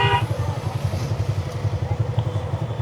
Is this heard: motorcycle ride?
yes